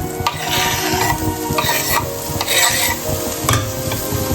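Sliced garlic and onion fry in olive oil with a constant close sizzle, broken by repeated scraping stirs of a utensil against the pan.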